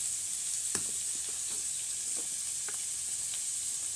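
Turtle meat frying in a pan with turmeric powder and spices in a village kitchen, a steady close hiss of sizzling oil broken by a few soft stirring clicks.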